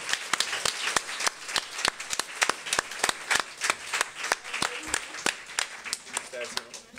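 At a secondary-school talent show, a small audience claps for the second-place group, sharp individual hand claps standing out in an uneven rhythm with a few voices murmuring underneath.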